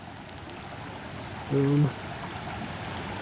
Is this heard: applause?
no